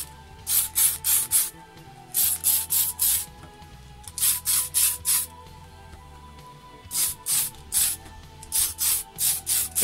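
Airbrush or spray can painting a Tamiya Ford Escort custom RC body, heard as repeated bursts of hissing spray in groups of three to five short blasts, close and loud, with no talk.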